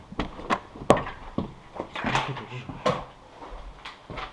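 Wooden clatters and knocks from a door being opened in a Fallout survival game, several quick sharp bangs and creaks mixed with shuffling movement, fairly close and loud.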